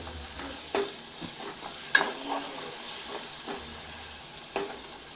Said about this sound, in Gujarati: હવે આપણે બધી વસ્તુને સારી રીતે મિક્સ કરી દઈએ.